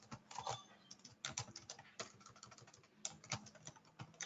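Quiet, close typing on a computer keyboard, irregular bursts of key clicks with short pauses between runs, no talking.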